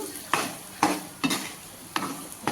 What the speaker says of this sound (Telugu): ఒక రెండు మూడు నిమిషాలు దీంట్లో ఫ్రై చేసుకుంటాను